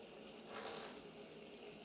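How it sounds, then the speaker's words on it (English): Water runs steadily from a bathtub faucet, a soft continuous hiss with no talking over it. "I'm going to actually turn on the water right here that comes out in the bathtub faucet right here."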